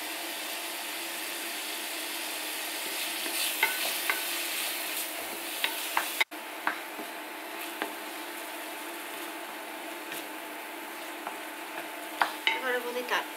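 Garlic frying in a pan, a steady broadband sizzle with occasional stirring clicks and scrapes of a utensil against the pan, continuous and close.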